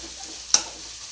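Onions frying in a hot pan until golden, a steady soft sizzle with one sharp clack of a spoon against the pan midway.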